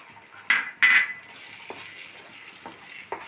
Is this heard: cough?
no